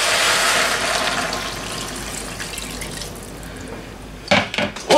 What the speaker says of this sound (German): Und jetzt lösche ich das Ganze mit Wasser ab.